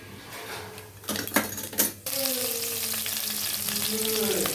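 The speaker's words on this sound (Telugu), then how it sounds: "ముందుగా ఆయిల్ వేసుకొని ఆవాలు, జీలకర్ర" Mustard seeds and cumin hit hot oil in a pan, giving a few sharp clatters followed by a steady, close-up sizzle and crackle that holds on without any talk.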